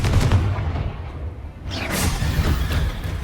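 Confringo fire spell blast in Hogwarts Legacy: a loud, rumbling burst with a whooshing flare midway, set against continuous heavy combat noise.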